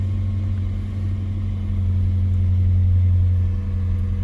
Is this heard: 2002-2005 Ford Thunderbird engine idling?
yes